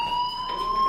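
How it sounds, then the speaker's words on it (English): Electronic fire alarm ringing in the game Life is Strange Remastered, a steady high-pitched tone held without a break at moderate level, heard alone with no talk over it. "Hey, do you hear that fire alarm?"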